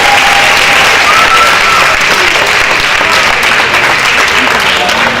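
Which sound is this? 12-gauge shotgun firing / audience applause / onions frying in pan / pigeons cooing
audience applause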